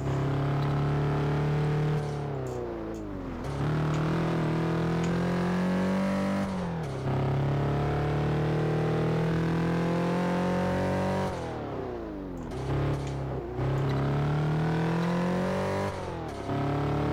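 A turbocharged car in Test Drive Unlimited 2 accelerates hard. The engine drone climbs in pitch, drops sharply at each gear change, then climbs again, repeating several times. It stays loud and close throughout.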